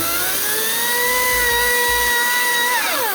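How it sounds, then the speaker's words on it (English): A chainsaw cutting through a dry tree roars loud and close, its engine whine holding steady, climbing slightly in pitch, then dropping near the end. "this is my chainsaw, this is Ryan's chainsaw."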